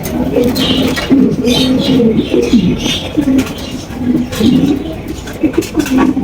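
Caged pigeons of a high-quality breed coo repeatedly and close by, with overlapping low throaty calls continuing throughout, and faint background noise underneath.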